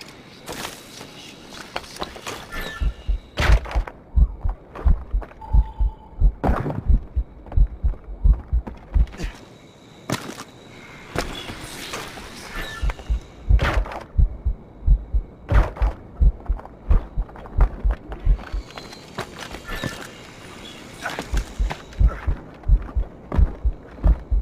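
Slow, heavy heartbeat thumps in Assassin's Creed Rogue as poison slows the character's heart, pulsing steadily in a low throbbing rhythm under a faint hum, with occasional brief game noises.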